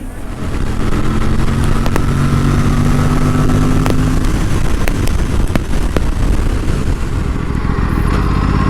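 An Aprilia RS457 motorcycle engine drones steadily and loudly throughout, with a few higher engine tones near the start and sharp clicks over a constant wind-like rush.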